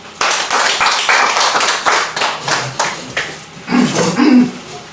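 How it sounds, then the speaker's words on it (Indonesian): An audience claps together after a talk at an Indonesian teachers' session, a burst of fairly loud, dense applause lasting several seconds with uneven swells, fading slightly before a final surge. "Kita berikan aplaus dulu kepada Bapak Gia"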